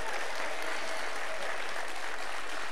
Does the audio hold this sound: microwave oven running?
no